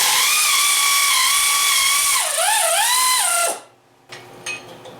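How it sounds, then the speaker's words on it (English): Power tool or ratchet whirring steadily on a VW engine during rocker assembly removal, a loud high mechanical whine that dips and wavers in pitch before cutting off, followed by faint clinks. "let's get these get this rocker assembly off here."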